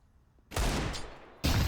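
Desert Eagle pistol fire in Counter-Strike during a professional match on the Overpass map, with two loud, close broadband bursts, the first lasting nearly a second and the second cut short at the end.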